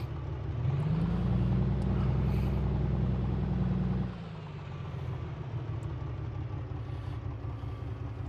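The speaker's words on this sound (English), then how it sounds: "Parking brake set. Engine at idle." A2A Comanche aircraft engine idling on the ground in Microsoft Flight Simulator 2024, a steady low throbbing drone that runs louder for four seconds, then drops to a quieter, rougher idle.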